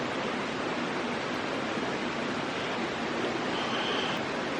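A river rushes steadily past a lunch spot on the Icebox Canyon Loop hike, its broadband wash constant and fairly close for the whole stretch, with no voices over it.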